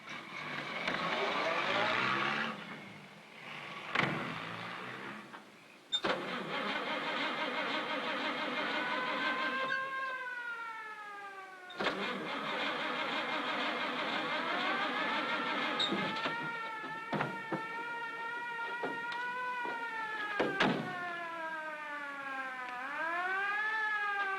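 A car engine starts and pulls away, its revs climbing and dropping through several gear changes in long rising sweeps, loud and continuous with a few sharp knocks along the way.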